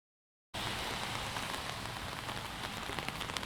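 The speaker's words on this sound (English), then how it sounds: "This is the first full-on rain interview I think we may have done where we're all under umbrellas" Outdoor rain comes on suddenly after half a second of silence, then patters densely and steadily on umbrellas, a close, continuous hiss of drops with no voices.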